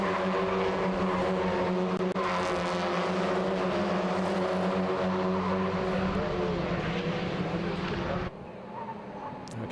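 Touring cars racing at Croft circuit in a close twelve-car pack, a loud, steady roar of several engines blending together for about eight seconds before it drops away abruptly to quieter distant track noise.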